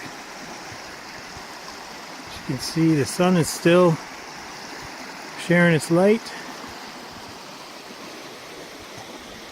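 Steady rushing creek water runs beneath a bridge on the Manistee River Trail, with someone speaking briefly over it in two short stretches.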